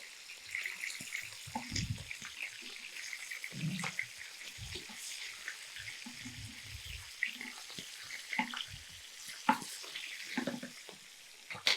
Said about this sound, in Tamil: இப்போது நம்ம இந்த மீன் வந்து குக் ஆகிட்டுருக்கு